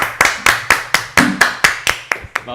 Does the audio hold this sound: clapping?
yes